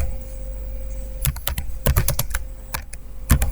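Someone types on a computer keyboard while entering file names in HTML, in quick irregular bursts of close, crisp key clicks over a faint hum, with no talk.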